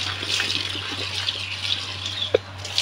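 Water pours steadily into a cattle trough, a continuous splashing gush with a low mains-like hum underneath and one brief sharper splash near the end.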